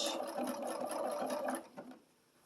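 A home sewing machine set to blanket stitch runs steadily for about a second and a half while stitching a quilted Halloween table runner, then slows and stops, leaving a quiet tail.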